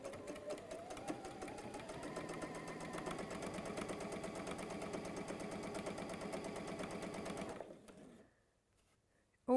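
A sewing machine stitches fabric in a fast, even mechanical rhythm for about seven seconds, then stops, leaving near silence with a faint click at the end.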